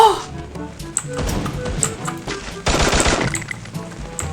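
Rapid bursts of gunfire in the video game Free Fire come loud and close in quick volleys, with an excited voice talking over the shots.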